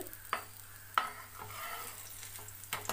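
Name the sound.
shallow frying potato cheese balls in oil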